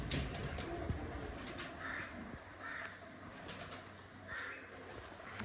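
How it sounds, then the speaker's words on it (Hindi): Pigeons cooing softly in a loft, a few low murmuring coos recurring every second or so, faint and mixed with light background noise. "ये वाले कबूतर हैं जी"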